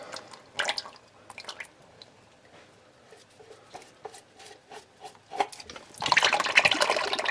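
Engine oil from a removed filter drips and splashes into a drain pan beneath a 1963 Oldsmobile 98, with scattered close drips that swell into a louder, denser pour near the end.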